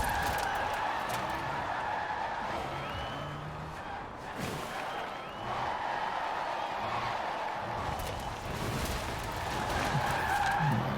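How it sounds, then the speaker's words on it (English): A rear-wheel-drive car drifting in Forza Horizon 4, with a continuous strained engine roar and a sustained tire squeal that swells and dips across the clip, loud and steady with no talking. "Drifting out of that corner."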